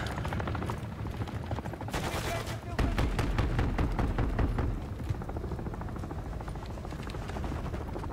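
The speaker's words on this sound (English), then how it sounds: "Attack helos pressing hard." Attack helicopters and heavy gunfire in the 2023 Call of Duty: Modern Warfare 3 video game, with a continuous rotor drone under dense bursts of automatic fire and thudding explosions that persist throughout at loud, steady level.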